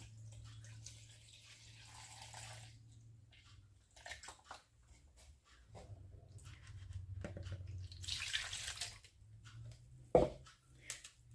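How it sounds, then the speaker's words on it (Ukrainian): Milk is poured into a bowl for yeast dough, heard as short, intermittent splashing bursts with quiet gaps and a brief clink near the end. "Робимо, наливаємо молоко."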